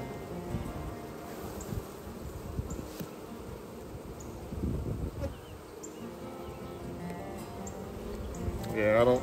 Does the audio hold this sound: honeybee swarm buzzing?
yes